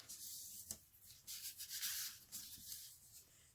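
Paper score marks are folded and burnished for a window gift box, a series of faint, soft rubbing and sanding strokes with short pauses between them and no voices.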